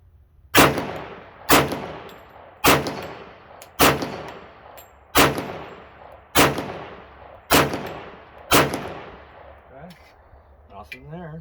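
Seven loud, sharp gunshots from a Wilson 47D pistol firing jacketed hollow point rounds at an outdoor range, spaced roughly a second apart with ringing decays, followed by faint clatter at the end.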